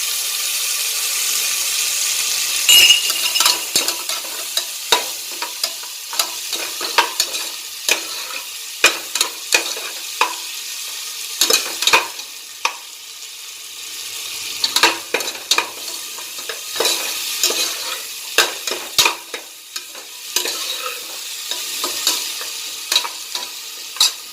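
Curry leaves frying in a pan for pepper mutton soup, a steady close sizzle broken by repeated sharp clicks and scrapes of a spoon stirring, with no talk.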